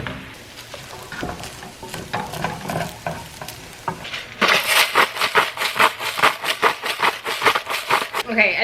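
Shrimp fried rice is stirred and tossed in a pan, with a loud sizzle rising about halfway through as rice is added, followed by rhythmic scraping strokes; talk is heard early on.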